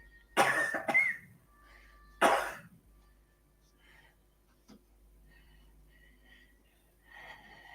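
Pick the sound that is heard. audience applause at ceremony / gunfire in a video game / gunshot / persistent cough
persistent cough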